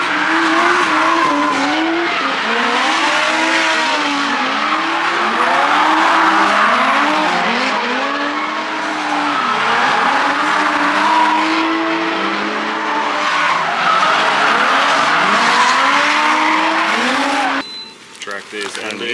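Cars on a race track during track day laps squeal and skid in long wavering tire screeches over roaring engines, loud and continuous, with people's voices mixed in before it abruptly cuts near the end.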